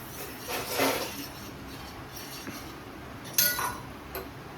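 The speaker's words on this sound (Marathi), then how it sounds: "त्याला हलवून घ्यायचं चांगलं" A spoon stirs a watery mixture in a metal vessel, producing a few scattered light clinks and scrapes against the sides over a low background hum, with no speech.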